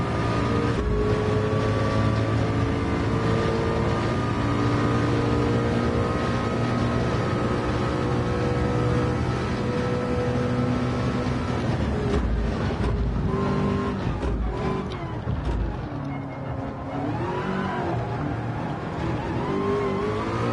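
Race car engine in a VR endurance racing game set at Le Mans, a continuous loud droning roar with shifting pitch as the car powers through a chicane and onward, with no talk.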